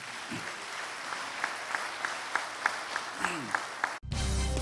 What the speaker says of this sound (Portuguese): Quem pode aplauda Jesus por tudo isto nesta noite.